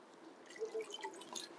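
Water dripping and splashing onto sphagnum moss, a few soft, close wet drips and trickles over a quiet background with no talking.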